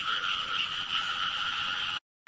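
Frogs croaking at night in a rice-field frog-hunting setting, a dense continuous chorus of close, loud calls that ends abruptly in silence.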